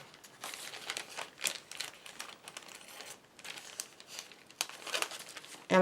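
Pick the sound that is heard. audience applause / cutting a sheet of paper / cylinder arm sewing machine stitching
cutting a sheet of paper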